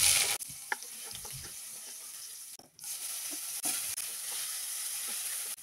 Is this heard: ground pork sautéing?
yes